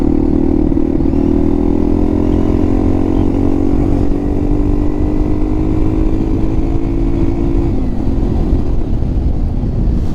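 A Yamaha TW200 motorcycle rides over gravel, its engine a steady, loud single-cylinder drone that rises slowly in pitch and then drops near the end, with a constant rumbling crunch beneath it and no voices.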